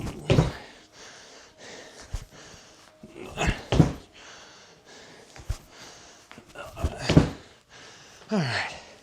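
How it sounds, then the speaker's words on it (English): A man's heavy, ragged breathing between exercise sets: loud gasps and exhales come in bursts every couple of seconds, with quieter panting in between, close to the microphone. "Heavy breathing."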